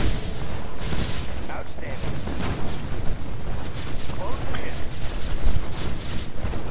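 Flak cannon fire in the Red Alert 2 strategy game rumbles in dense, continuous booming bursts under a steady bed of battle noise, heavy and sustained throughout.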